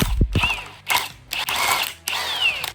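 A ratchet wrench loosens the water pump pulley bolts on a BMW E46 M52B28 engine in three short bursts of close, rapid mechanical clicking separated by brief pauses.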